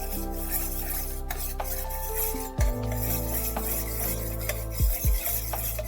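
A spoon stirs cocoa powder into a little milk in a bowl, giving a close, steady scraping and rubbing with a couple of sharper clinks against the dish.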